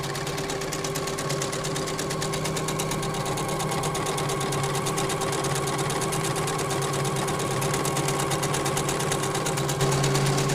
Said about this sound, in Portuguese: Está costurando o pontinho 14, 19